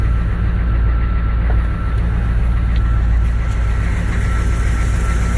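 A 1986 M1008 diesel truck with true dual exhaust and Gibson mufflers runs steadily and loudly up close, its low engine rumble holding a fairly even level with only slight swells throughout.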